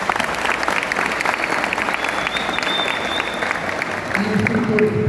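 A seated event audience claps in a steady, dense wash of applause that runs continuously throughout, with a faint background voice or tone near the end.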